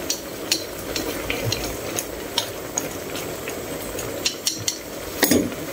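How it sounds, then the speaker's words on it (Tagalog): Leafy pechay vegetables cooking in a pot for an egg noodle soup, a steady simmering hiss with soft scattered clinks of a utensil stirring, up close and without talk. "yung gulay ay medyo lutuin natin konti"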